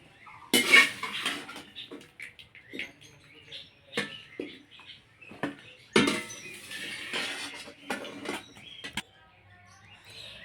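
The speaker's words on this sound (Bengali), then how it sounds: "এবার এটাকে জল থেকে এভাবে ছেঁকে নেব।" Lightly boiled drumstick stalks strained out of water, with irregular clatters and clinks of a metal pot and utensils, bursts of pouring and dripping water between quieter gaps.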